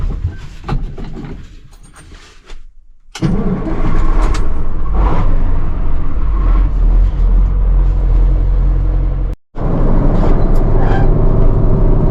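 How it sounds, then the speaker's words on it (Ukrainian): A KAMAZ truck pulling a trailer on a farm drives steadily, its loud, continuous engine rumble close by after a quieter, uneven start, with a brief dropout near the end. "Коротше, настроїли камаза, їдемо."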